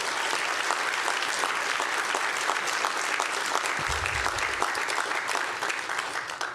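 An audience at a Clinton Global Initiative annual meeting on health equity gives sustained, even applause that tapers off slightly at the end.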